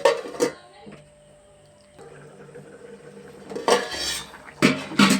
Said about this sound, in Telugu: మూత పెడుతున్నాను.